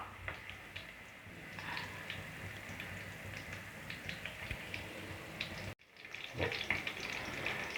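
Chicken 65 pieces shallow-frying in a little oil in a pan crackle softly and continuously with scattered pops and ticks, fairly quiet, with a brief handling clatter near the end.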